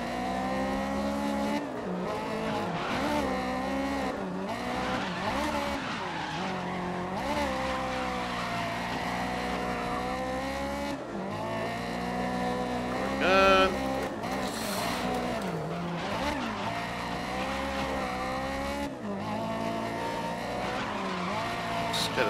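Race car in the video game GRID 2019 sliding under a light handbrake, engine howling and shifting pitch with tire squeal and skid noise, one sharp squeal burst midway, steady and close with no talk.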